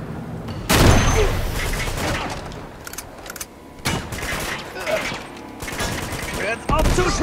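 Loud bursts of video game gunfire from Uncharted: Among Thieves erupt in irregular volleys with booming impacts and clattering mechanical noise, close and intense.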